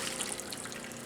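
Rinse water trickles and splashes from a washing machine wringer down into a bucket, a brief, steady liquid patter at close range.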